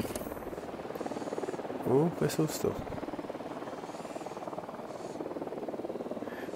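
In the video game Ghost Recon Wildlands, a helicopter drones continuously in the background of a tense scene, its steady buzzing rotor hum running throughout while a voice exclaims briefly over it.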